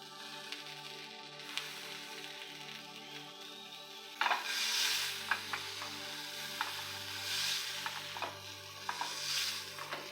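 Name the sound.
hot dogs browning in a frying pan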